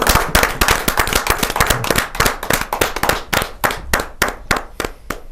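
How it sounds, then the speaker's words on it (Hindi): Audience at a kavi sammelan poetry gathering welcoming an Urdu poetess, loud close claps in a quick irregular burst that thin into sparser, separate claps as it winds down. "मैं बड़े जोरदार तालियों के साथ स्वागत करता हूं"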